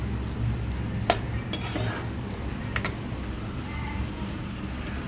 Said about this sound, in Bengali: এখন আমি ভালো করে কষিয়ে নিব।